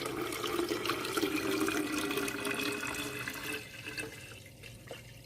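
Water pours steadily into a jar while homemade apple vinegar is being made, a loud continuous splashing stream that thins and trails off near the end, with no talking.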